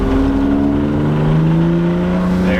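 A BMW E30 fitted with a cheap eBay turbo pulls hard in second gear around 3,000 RPM under load, giving a loud, steady, strained engine drone with rough droning tones and no one talking.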